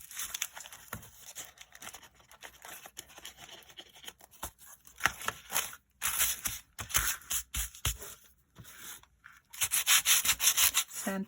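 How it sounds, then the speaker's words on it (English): Sandpaper scratches across the back of a paper stencil for Halloween decor. The strokes come in close, irregular raspy bursts with short pauses between them, and no voices are heard. "Sandpaper the back."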